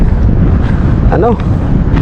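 Strong wind buffets the microphone on a bridge, a loud, steady rushing roar with gusting rumble; no clear talk is heard.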